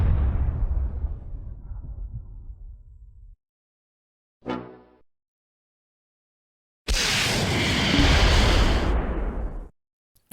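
A bazooka round strikes a Sturmgeschütz assault gun in the World War II strategy game Close Combat 4, with a rumbling roar fading out, a short sharp burst, then a loud broadband explosion blast lasting about three seconds.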